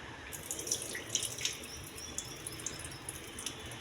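Garlic and green chillies are rinsed under running tap water in a kitchen sink, a thin steady trickle with soft splashes and drips scattered across the few seconds, fairly close and not loud, with no talking.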